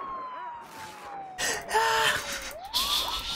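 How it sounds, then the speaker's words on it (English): An ambulance siren in a video game wails with rising and falling sweeps, clear and close, while bursts of game noise and a voice break in partway through. "Turn on the siren."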